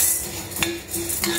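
A spoon stirs horse gram roasting dry in a pan, giving soft scraping and clinking of metal against the pan in a few uneven strokes, close and steady with no talk.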